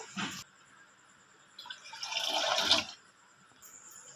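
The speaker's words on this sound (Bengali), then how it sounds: "কড়াতে এবার জল দেব।" Water poured from a bowl into a wok on the stove gives a short splash, then a louder gushing pour lasting about a second and a half, faint and close, with no speech.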